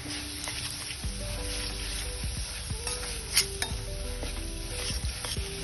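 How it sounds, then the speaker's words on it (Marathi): Whole spices for misal roasting in a pan sizzle steadily up close, with occasional stirring scrapes and a few light clinks over the continuous hiss. "दोन ते तीन मिनिट आपण हे खडे मसाले मसाले छान भाजून घ्यायचे आहे"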